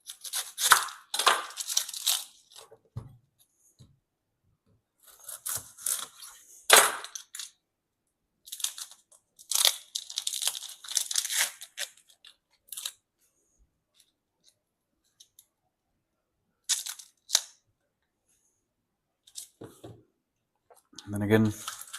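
A knife chopping two onions on a cutting board in quick bursts of sharp taps, separated by stretches of silence, with a few closing thumps near the end.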